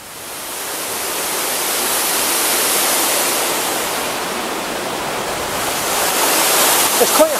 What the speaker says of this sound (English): It's quite hard to get away from the sound of water in New Lanark